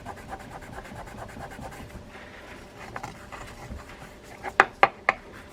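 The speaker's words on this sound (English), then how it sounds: "I use that scrubby pad because there is sometimes residual grease and junk that this will help dissolve without injuring the reel" Scrubby pad rubbing over a chrome vintage Shakespeare baitcasting reel, a soft steady rasping scrub, then three sharp close clicks near the end.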